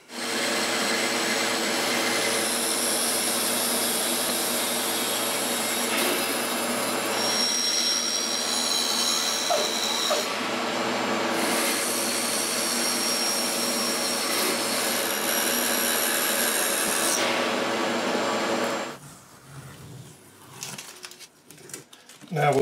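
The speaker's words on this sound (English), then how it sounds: "So now, off to the bandsaw." A bandsaw cuts through wood in a woodworking shop, a loud, continuous whining buzz with a high-pitched edge. It holds steady for most of the clip, then winds down into quieter handling noises.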